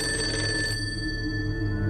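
A telephone rings steadily, its electronic bell tone loud and continuous for about two seconds with no voices over it.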